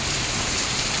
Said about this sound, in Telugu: వడగళ్ళ వాన వస్తుందండి.